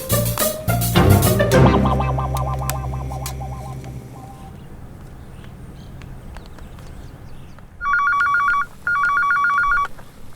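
An electronic telephone ring sounds twice in two clean bursts near the end, following a louder musical passage that fades into a quiet room.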